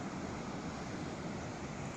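Ocean surf washes against rocks along a coast as a steady, faint roar of breaking waves, with some wind rush and no voices.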